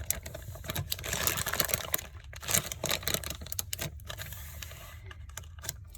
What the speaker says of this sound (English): I'm going to put it down in a plastic bag, and I'm going to seal it up